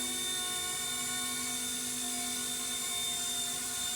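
A steady high-pitched whine with a buzzing rattle underneath from an MD500 model helicopter, continuous and fairly close, like a small rotor spinning up.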